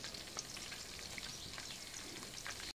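Soya chunks fry in oil for chilli soya, a quiet, continuous crackling sizzle heard alone for a few seconds.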